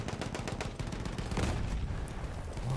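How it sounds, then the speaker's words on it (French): Dense, continuous gunfire and explosions rumble from a Battlefield 1 battle, a steady loud barrage of overlapping shots with no talking. "Pourquoi il tire ici?"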